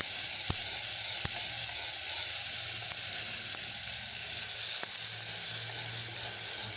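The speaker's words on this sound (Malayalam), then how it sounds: "ഒരിത്തിരി എണ്ണ ഒഴിച്ചിട്ട് ഇത്തിരി കടുകും ഉലുവയും കൂടി ഇട്ടിട്ടുണ്ട്" Mustard seeds and fenugreek spluttering in a little hot oil, a steady close sizzle with a few sharp pops scattered through it, and no voices.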